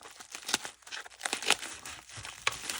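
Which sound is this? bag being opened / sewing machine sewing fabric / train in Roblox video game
bag being opened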